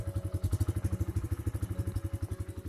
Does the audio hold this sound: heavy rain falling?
no